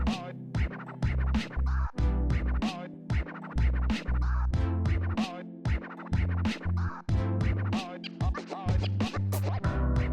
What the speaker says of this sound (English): It sounds really good for just being like samples that I played instead of like actually scratching on it.